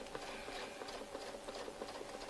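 A sewing machine stitches a continuous rope quilting pattern with a template, giving a fast, even mechanical patter that is fairly faint and steady throughout.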